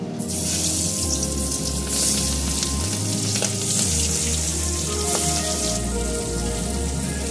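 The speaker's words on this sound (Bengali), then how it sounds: "সর্ষের তেল গরম হয়ে গেছে, এবার আমি মাছগুলো ছেড়ে দেবো।" Hilsa fish go into hot mustard oil in a pan, setting off a steady, bright sizzle with crackling spatter that carries through, with a low hum beneath, close by.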